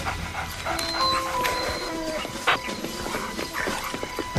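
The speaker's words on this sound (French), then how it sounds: "Les chiens sont paniqués par cette odeur." Frightened dogs whimper and let out short yips and barks at a synthetic tiger-urine scent, a few high whines and sharp cries over a low rumbling background.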